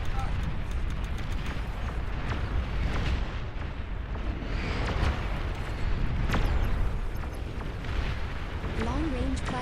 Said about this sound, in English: Long-range plasma cannons are targeting your units